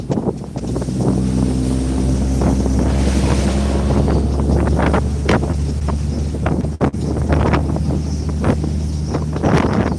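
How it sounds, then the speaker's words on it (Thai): Strong wind roars and buffets the microphone while riding on a vehicle in cold weather, a loud continuous rushing with gusty thumps throughout. "ลมแรงมากครับผม เพราะว่า อยู่บนรถครับ"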